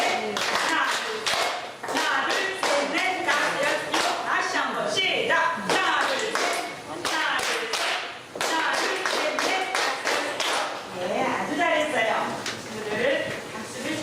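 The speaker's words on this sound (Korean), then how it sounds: "337 박수를 한번 쳐봅니다." An audience at a Korean lecture does group 3-3-7 rhythmic clapping, loud, close claps in bursts of strokes with short pauses, while voices count and speak over them.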